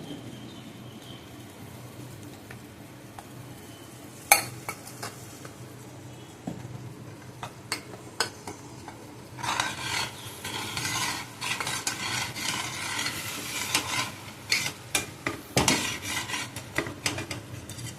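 Sesame powder is stirred into a thickening mixture in a pan. A spoon clanks and scrapes against the metal, with a sharp knock, then a busier stretch of steady stirring and soft sizzle with scattered taps.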